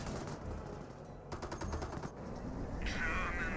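MG42 machine gun fire bursts out in Company of Heroes as rapid rattling volleys of sharp, evenly spaced shots. A quieter stretch comes first, then denser gunfire with a faint voice underneath.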